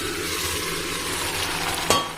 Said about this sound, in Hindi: तो ये मेरा अच्छे से फ्राई हो गई है प्याज। इसमें मैं इस दाल को डालूंगी भी